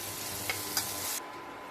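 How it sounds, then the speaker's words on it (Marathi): Chopped tomatoes sauté in oil in a pan over a low flame, giving a steady soft sizzle with a couple of brief stirring clicks before the sound cuts away. "2 मिनिटं टोमॅटो तेलावर परतून घेतले."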